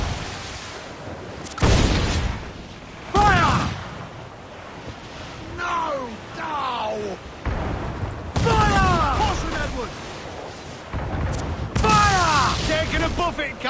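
Cannons firing in a naval battle in Assassin's Creed IV Black Flag, several heavy booms spaced a few seconds apart over surf and wind, with shouting voices in between.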